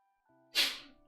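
A single sharp sneeze, close and sudden, in an otherwise quiet room.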